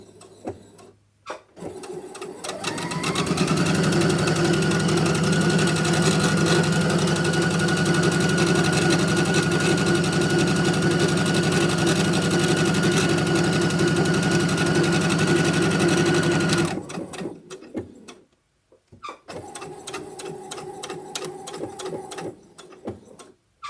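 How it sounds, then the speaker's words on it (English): A sewing machine runs a tiny straight stitch on a beanbag for a ball-jointed doll, a steady close whirring drone for about fourteen seconds, then stopping, with a few shorter mechanical bursts after a pause. "now let's do our tiny straight stitch"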